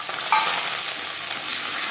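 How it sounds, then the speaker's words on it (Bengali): Chickpeas frying with toasted coconut in a pan for a jackfruit dish, a steady close sizzle with faint stirring scrapes throughout. "ছোলাও 2-3 মিনিট হালকা করে ভেজে নেব"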